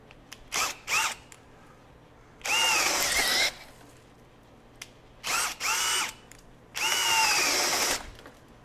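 A Bosch GSB18V-1330C 18V high-torque cordless hammer drill driver runs in several bursts: short quick pulses, then longer sustained whines that rise and fall in pitch as it spins up and is loaded, with quiet gaps between them.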